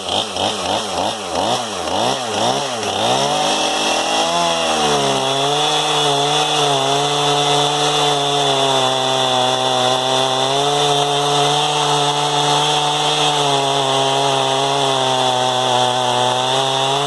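A warmed-up Stihl 271 chainsaw fitted with a Hipa chain revs up and bites into a 14-inch ash log, holding a loud, steady bogged-down cutting drone after a few rising throttle blips, close and without speech.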